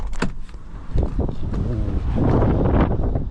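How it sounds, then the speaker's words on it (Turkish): Icy gusting wind in Texas roars against the microphone, swelling louder toward the end, with a few muffled knocks and bumps nearby. "Dışarısı buz gibi ve rüzgar esiyor ya"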